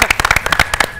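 Dense, close studio applause on a television show for world champion boxer Marcos Maidana, a rapid burst of many hands clapping at once.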